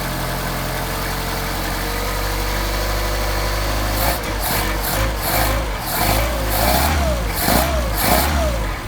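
A car engine fitted with a Solex carburetor idles steadily as it warms up, then is revved in several rising and falling bursts, loud and close.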